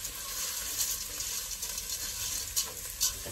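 Split pea soup is stirred in a pot with soft, continuous scraping and a bubbling hiss, plus a few brief louder swishes; close up and fairly quiet, with no speech.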